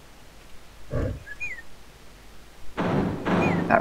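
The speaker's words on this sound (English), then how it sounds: "That rather terrifying scream, to be fair." Two short, guttural monster roars in a video game burst out, one brief and one longer, separated by quiet, with a thin high squeal between them.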